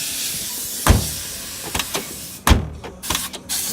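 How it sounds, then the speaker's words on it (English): A car door latch clicks on a 1979 Mercedes-Benz 450 SLC and the door swings open with a solid thunk, followed by a few lighter clicks and rattles nearby. "Let's open that door."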